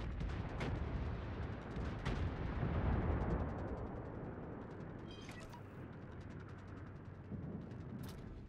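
Heavy naval guns from a World of Warships battle boom in several deep, rumbling blasts over a sustained low roar, with sharper cracks scattered near the start and end.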